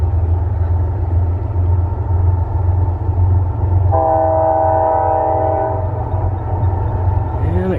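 A freight train rumbles loudly and steadily, and midway its horn blares a sustained chord for about two seconds before the rumble continues.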